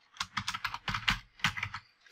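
Rapid typing on a computer keyboard while filling in a form, a quick irregular run of close, crisp keystrokes that slows near the end, with no voices.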